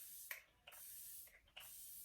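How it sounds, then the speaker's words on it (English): Shake and Go makeup setting spray misted in two pairs of short, close hissing bursts with brief pauses between them, alone in a quiet room. "I'll go in with setting spray. This is the Shake and Go."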